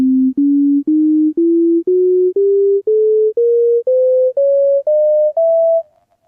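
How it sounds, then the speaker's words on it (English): A rising series of thirteen pure electronic tones stepping through the Bohlen-Pierce scale, which splits a 3:1 frequency ratio into equal steps. Each note is held briefly in an even, steady climb with no other sound. "they proposed this alternate scale, and that's based on a 3-to-1 frequency ratio"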